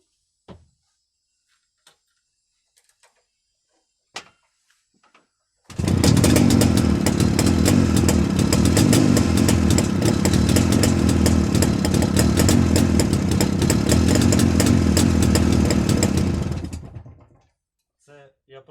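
A Jawa 350 two-stroke motorcycle with CDI ignition is kick-started cold and catches, then runs loudly for about eleven seconds with a rough two-stroke buzz before cutting off. A few faint clunks come first.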